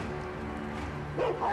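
A dog barks twice in quick succession near the end, sharp and close, over a steady low background hum.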